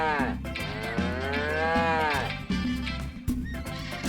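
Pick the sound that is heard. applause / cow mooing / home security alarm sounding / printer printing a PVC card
cow mooing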